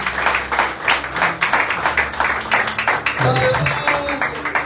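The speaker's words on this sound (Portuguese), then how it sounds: "E a igreja dá uma linda ressalva de palmas para a honra e glória do Senhor Jesus." Church congregation applauding together at a service: dense, steady clapping from many hands fills the space, with a sustained low musical or organ tone underneath and some faint voices.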